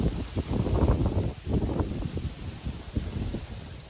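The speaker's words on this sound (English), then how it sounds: "The wind." Gusty wind buffets the microphone outdoors in steady low rumbling surges that swell and ease over a few seconds, with no voices.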